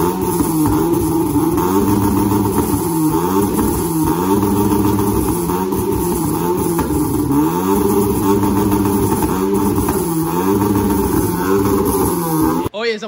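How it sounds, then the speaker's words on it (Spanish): A modified 2014 Honda Civic with a stainless steel exhaust revving repeatedly, loud and close, the engine note rising and falling in quick throttle blips over a steady idle drone, cutting off abruptly near the end. "Vamos a resaltar el sonido del carro."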